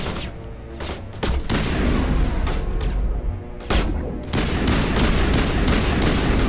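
Gunfire in a 2007 space RPG video game: loud, repeated bursts of shots and impacts with a brief lull midway, then dense volleys resuming, with no clear voices over the noise.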